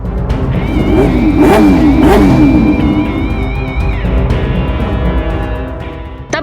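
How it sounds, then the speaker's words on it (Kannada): Motorcycles fitted with loud modified silencers rev hard in Kolar district, a harsh, rising and falling engine roar that stays loud and close for the whole stretch, with no one talking. "ತಮ್ಮ ದ್ವಿಚಕ್ರ ವಾಹನಗಳಿಗೆ ಕರ್ಕಶ ಧ್ವನಿಯನ್ನ ಹೊರಹೊಮ್ಮಿಸುವ ರೀತಿಯಲ್ಲಿ ಮೋಡಿಫೈ ಮಾಡಿಕೊಂಡಿದ್ದ ಸೈಲೆನ್ಸರ್"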